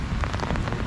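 Heavy rain falls in a dense, steady patter on the surfaces around Mawlynnong village in Meghalaya, filling the whole brief moment with loud hiss and close droplet hits.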